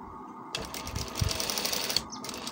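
A sewing machine stitches a shirt collar, starting abruptly into a steady, fast mechanical whir with rapid needle clatter, close and clear, then briefly pausing near the end.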